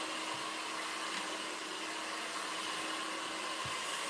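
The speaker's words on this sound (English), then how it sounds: "just cross the head with that blow dryer" A blow dryer runs steadily in a hair salon demonstration, a constant close whooshing roar of air with a faint motor hum as it is moved across the head.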